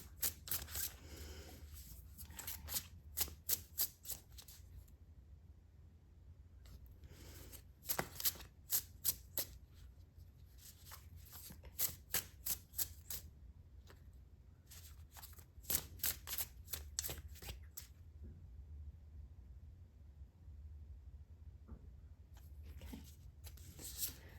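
Tarot cards being shuffled close by in repeated bursts of crisp riffling and flicking, separated by short pauses, against a quiet room with no voices.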